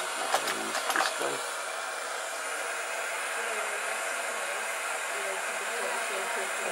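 A torch heats a ring to melt solder, giving a steady, fairly quiet roaring hiss, with a few brief clicks and voice sounds near the start.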